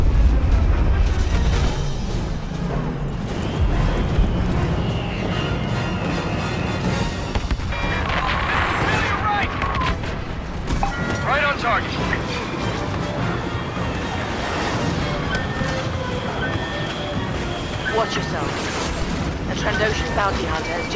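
An Imperial Walker opens fire during a battle in the Star Wars Battlefront video game, with heavy blasts and laser-fire bursts over a constant rumbling din of combat.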